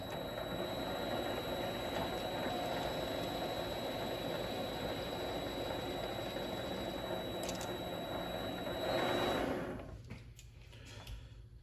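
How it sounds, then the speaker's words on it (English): A Vevor MX400 metal lathe chamfers a metal tube, giving a steady mechanical whir with faint cutting squeal that runs continuously for about nine seconds, then stops abruptly and leaves quieter handling noises. "Let's get this chamfered. I'm just gonna use the lathe and this."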